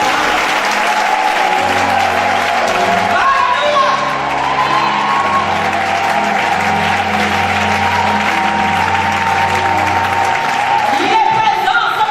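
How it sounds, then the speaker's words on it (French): A church congregation at a morning service applauds steadily and cheers, with shouts and whoops rising over sustained clapping and a low organ or keyboard chord underneath throughout. "Est-ce que nous pouvons encore acclamer sa présence ce matin?"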